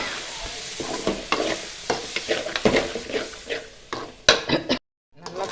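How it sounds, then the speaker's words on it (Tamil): Tomatoes stirred in a pan for an eggplant fish curry, a sizzling base with repeated close spoon scrapes and clinks against the pan, louder bursts near the end before a brief cut to silence. "நல்லா கலக்கி விட்டுக்கோங்க"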